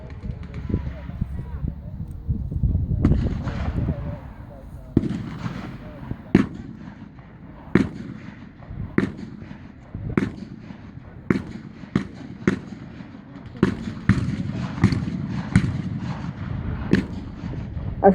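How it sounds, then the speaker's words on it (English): Gunfire from German troops at a WWII battle reenactment at Military Odyssey, with sharp single rifle shots cracking at irregular intervals outdoors amid a steady low rumble and crowd murmur. "A few German troops continued to fire."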